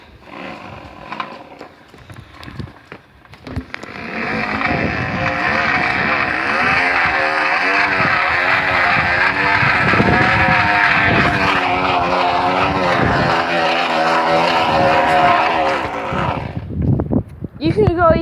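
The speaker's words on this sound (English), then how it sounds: "have fun with your motorbike sounds" Bicycle rigged to sound like a motorbike gives a rapid, continuous buzzing rattle while riding, loud and sustained for most of the stretch, starting and ending with quieter handling noises.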